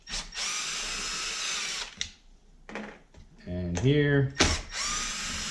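Power drill removing screws from an Arrma 3S BLX RC truck, several short whirring bursts close by with brief gaps between, and a quick spoken word partway through.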